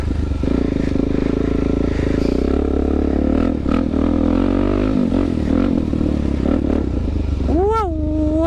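A Suzuki DRZ400 dirt bike rides off-road with a loud, steady engine drone and some clattering. A voice speaks near the end over the engine.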